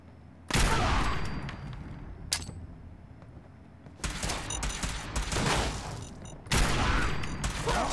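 Bursts of gunfire in Fallout 4 erupt in loud, close volleys: a long rattling burst, a brief shot, then two more sustained bursts separated by quieter gaps.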